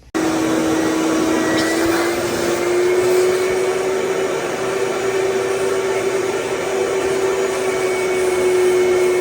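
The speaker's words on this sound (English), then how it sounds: "I'm going to take a shop vac and I'm going to suck that drain out" A shop vac sucks on a water heater drain pan line, a loud, steady whining roar holding one pitch with a slight rise partway through, running continuously without talk.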